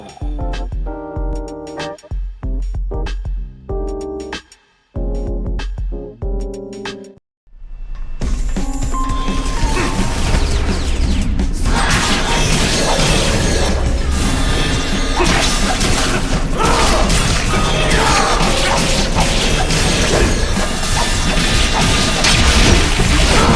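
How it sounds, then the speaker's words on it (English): Video game explosions burst as a loud, continuous wall of crashing booms and debris that runs for many seconds, after a stretch of choppy, stop-start game music and effects. "Just start a bunch of explosions."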